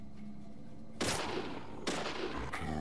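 Gunfire in Deadly Premonition: two sharp, loud shots about a second apart, each bursting out with a ringing tail that decays slowly, over a low background hum, with no voices.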